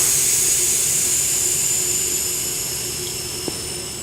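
Air rushes steadily out of a tire after its valve stem is removed, making a continuous loud hiss close by that fades slightly over a few seconds.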